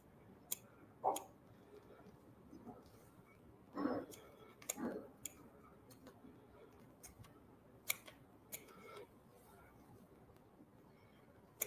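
Scissors snip through a prosthetic appliance in a series of soft, close crisp cuts and clicks, irregularly spaced, with quiet breathing and faint handling noise in between.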